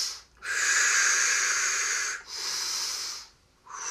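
Slow, deep breathing during a seated chair yoga hip flexor stretch, with a long breath followed by a second and the start of a third, each airy and close, with no talk.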